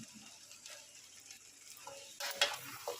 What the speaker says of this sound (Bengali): আমি ভালো করে মিক্স করে নাড়িয়ে নেব